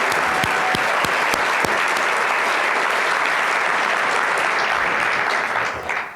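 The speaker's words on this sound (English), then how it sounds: "So one huge round of final applause for everybody." An audience at an award ceremony for a social innovation challenge gives a long, dense round of applause, loud and steady throughout and fading out at the end.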